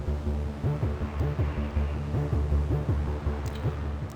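A Nexus VST arpeggio preset, Whistling Signs, plays in FL Studio around D4. It gives a fast, repeating synth pattern with deep bass underneath, loud, steady and without any voices.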